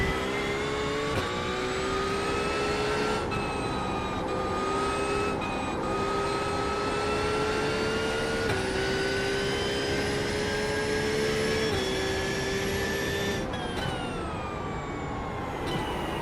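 Race car engine in the iRacing video game, holding a steady high drone with smooth pitch shifts and brief dips between gears, loud and continuous throughout with no talking.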